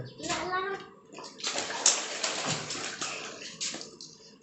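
Water pours steadily from a tap with a splashing hiss, while a voice and other voices talk over it nearby.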